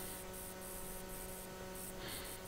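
Aerosol spray paint hissing steadily in a continuous close burst, laying a third deep purple base coat onto a Hot Wheels diecast car being customized as a hearse.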